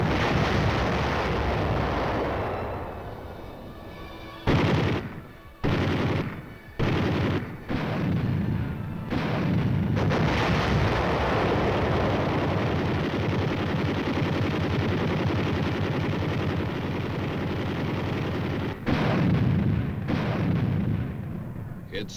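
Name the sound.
artillery barrage in the Korean War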